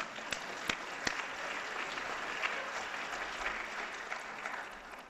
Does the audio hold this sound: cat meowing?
no